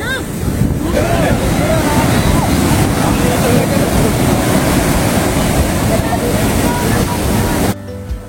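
Sea waves break on the beach at Puri, a loud, continuous roar of surf mixed with heavy wind buffeting the microphone, with voices faintly present underneath.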